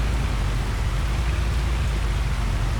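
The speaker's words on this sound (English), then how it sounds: "Of course it's raining." Rain falls steadily in the farming video game Farming Simulator 25, a dense, even hiss of drops with a low rumble underneath, continuous and without talk.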